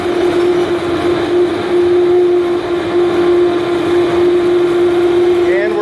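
A CNC mill machines a foam column for an Egyptian-themed escape room prop, sustaining a loud, even mechanical drone with a steady hum throughout.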